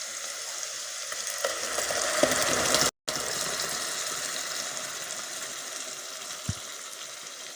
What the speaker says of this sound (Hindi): ये देखिए, हमारा प्याज हल्का सा फ्राई हो चुका है। अब हम इसमें पेस्ट डाल देंगे